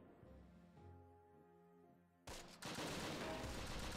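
Tank cannon fire from a Panther G in the WWII strategy game Close Combat: Wacht Am Rhein: after a tonal lull, a sudden heavy blast erupts and rolls into sustained loud, dense gunfire and rumble.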